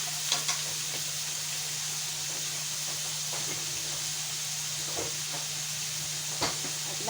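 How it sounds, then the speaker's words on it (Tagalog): Minced pork stir-frying in a pan, a steady hiss and sizzle with occasional scraping stirs and soft clicks of the utensil, moderately close, no voices. "Haluin hanggang maluto yung minced pork"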